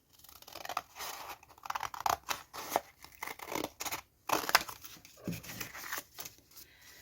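Scissors cut a paper bag in half for a card insert, giving a close run of crisp snips and crinkly paper rustles with brief gaps between strokes.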